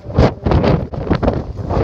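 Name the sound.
strong wind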